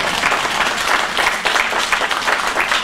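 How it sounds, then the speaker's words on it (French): An audience claps steadily for a few seconds at a singing contest, a dense wash of applause with no voices. "on peut applaudir le public"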